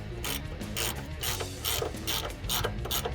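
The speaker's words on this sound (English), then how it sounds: "Reinstalling the upper bracket for the ABS. That's going to be your 10 millimeter socket." A ratchet with a 10 mm socket tightens small ABS bracket bolts on a 2007–2018 Chevrolet Silverado 1500, giving a close, steady series of quick clicking bursts in a regular back-and-forth rhythm.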